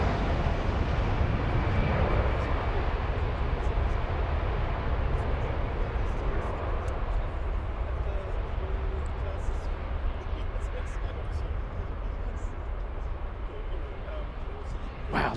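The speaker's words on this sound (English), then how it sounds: "This takeoff on runway 18 flying to Paris." An airliner takes off from runway 18 at Frankfurt Airport, a broad continuous jet roar heard from outdoors at a distance, steady and loud throughout, with people talking over it.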